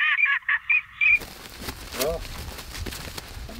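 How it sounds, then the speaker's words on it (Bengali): A recording of duck calls, played by a hunter in Egypt to lure wild ducks, gives a few loud nasal honking quacks in quick succession. It then cuts to rustling outdoor noise with a faint call. "খাঁটি হাঁসের ডাকের রেকর্ডিং আরও নির্ভরযোগ্যভাবে অন্য হাঁসগুলোকে আকর্ষণ করে"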